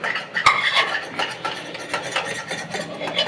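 Egg fried rice with chilli sauce and soy sauce stirred in a pan, a close run of scraping, clinking strokes of a spatula against metal over a faint sizzle, with no talking.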